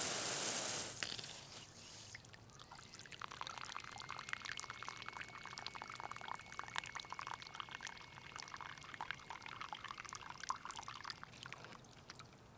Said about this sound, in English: this like flow of water you're seeing right here, even though the valve is shut off